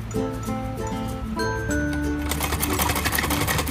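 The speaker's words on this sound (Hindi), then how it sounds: "यहाँ से लगातार सिलाई लगाते चलेंगे" A sewing machine stitches a designer kurti, its motor humming with tonal whine and rattling, growing busier and louder partway through, with no voices.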